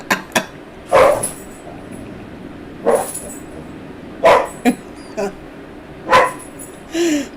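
Pet dog barking nearby in five or six sharp, loud barks spaced about a second apart, alone with no talk.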